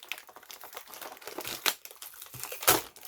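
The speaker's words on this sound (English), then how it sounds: "Now I will peel this lower part" Packaging from a Flaro fountain pen set being peeled off by hand, a run of close crinkling and tearing rustles with a few sharper crackles, alone and fairly quiet.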